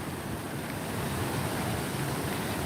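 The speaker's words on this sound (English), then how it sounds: "I'm gonna walk down here in hopes that I don't get hit by the waves." Waves break on a seashore in a continuous, roaring wash of surf with gusty wind noise on the microphone, steady and fairly loud, with no voices.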